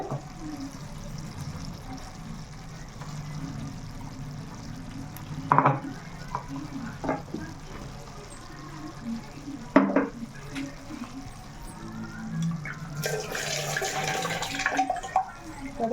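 Mutton keema with ginger-garlic masala paste is stirred in a pan, with soft scraping, occasional spoon clinks on the metal and a low sizzle throughout, plus a brief louder rush of noise near the end.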